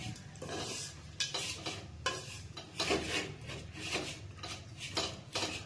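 Beef sambal stirred and fried in a pan, with repeated scraping, rasping strokes of a spatula against metal in an irregular rhythm, close and fairly quiet, no talking.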